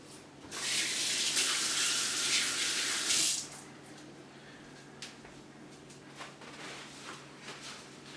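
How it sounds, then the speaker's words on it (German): Hands washed under a running kitchen tap: a close, steady gush of water for about three seconds, then the flow stops, leaving faint drips and small handling noises. "So, ich wasche mir schnell die Hände."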